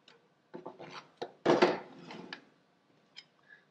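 Lettuce leaves and watery vegetables are cut with a knife before juicing, giving a few scattered close knocks and crisp rasping strokes on a board with quiet gaps between them, and no talk over them.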